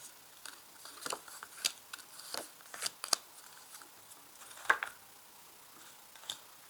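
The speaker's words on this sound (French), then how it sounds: "Je place maintenant les autres cartes" Tarot cards are laid out one by one on a table, giving soft, close papery flicks and taps in an irregular rhythm. They are faint and there is no talk.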